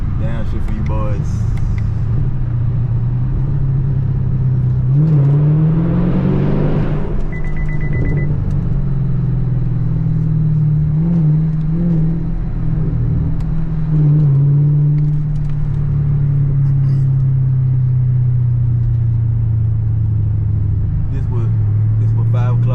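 A Chevrolet Camaro SS cruises on an early-morning interstate highway, a steady close engine drone and road rumble heard from inside with a swell around the middle, while someone talks over it.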